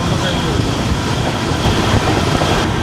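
The Bangalore–Chennai double decker express rushes past close by, giving a loud, steady roar of wheels and wind with faint rhythmic rail clatter for a few seconds.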